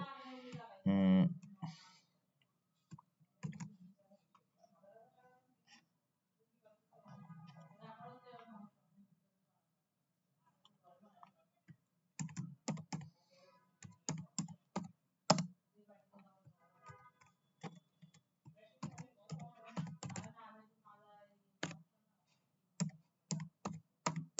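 Typing a new file name on a computer keyboard in Visual Studio Code: bursts of sharp, close key clicks in irregular runs, alternating with stretches of someone speaking softly in Bengali.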